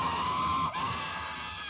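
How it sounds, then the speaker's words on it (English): Screaming from the video game Skull Island: Rise of Kong, a steady high-pitched wail with busy game noise beneath that drops slightly in loudness partway through, lasting under two seconds. "More screaming."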